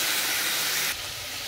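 Boiled chickpeas frying in a pan, producing a loud, continuous close-up hiss and sizzle that drops slightly in level partway through, with no talking.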